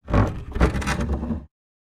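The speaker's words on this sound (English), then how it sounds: "You're now going to hear the isolated barn door." An isolated barn door sound effect made for a windmill in the game Arcan Chronicles: a single wooden creak and clatter about a second and a half long, close and alone, then silence.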